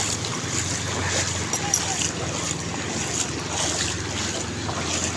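A boat's low engine hum on open water with wind buffeting and waves splashing, steady throughout, faint talk mixed in.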